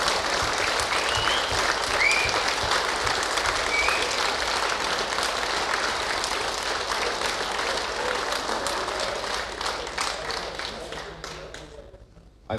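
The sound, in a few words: applause at NSL Nations Cup finals ceremony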